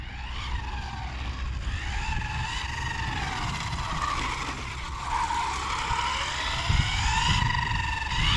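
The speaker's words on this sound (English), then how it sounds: "just warming the tires up a little bit." An HPI Mavrick 4S RC car with a 2900 kV Poseidon motor and Spektrum 6S ESC spins its tires in place to warm them, giving a sustained high whining motor pitch that rises and falls, with tire scrubbing underneath.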